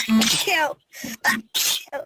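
A single sharp sneeze bursts out among stretches of close, ordinary talk, followed by more speech.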